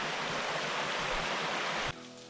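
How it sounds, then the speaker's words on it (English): A river flows steadily nearby, a broad continuous rushing wash of water that holds an even level before dropping away near the end, with no voices. "This river is just amazing."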